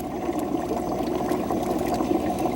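Water steadily trickles and bubbles as a brine shrimp tank slowly refills, a low continuous gurgling flow close by with no voices.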